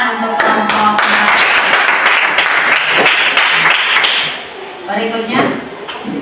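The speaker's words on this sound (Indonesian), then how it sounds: "Tepuk tangan untuk kelompok" Students in a classroom clap for a group, with sharp scattered handclaps mixed with voices talking over them. The clapping thins out partway through.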